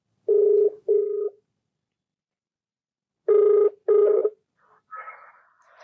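Telephone ringback tone on an outgoing call, two paired rings separated by a silent pause, clear and close, followed by faint start of a voice answering.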